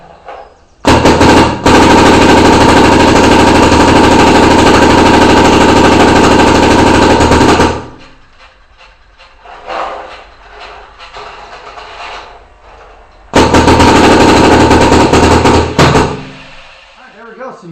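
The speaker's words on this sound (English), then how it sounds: "Let's go ahead and shoot a couple here" A Proto Matrix Rail paintball marker fires long, rapid strings of shots, loud and close: a sustained machine-gun-like burst of about seven seconds, a quieter gap, then a second burst of roughly three seconds.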